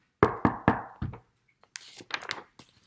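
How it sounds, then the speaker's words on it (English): Several sharp knocks on a door, four in a quick uneven burst, then softer scuffling and tapping sounds, close and clear with no talking. "he was startled by a knock at the door"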